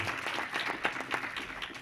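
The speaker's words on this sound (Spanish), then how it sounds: "podemos darle un aplauso a nuestra secretaria" An audience at a university thesis defense session gives brief, fairly quiet applause, an even patter of many hands clapping for under two seconds.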